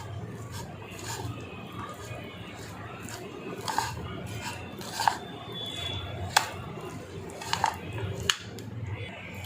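A spoon stirs chaat masala ingredients in a bowl, a soft scraping and mushy squishing with several sharp clinks of metal against the bowl at irregular intervals, close by, while someone talks.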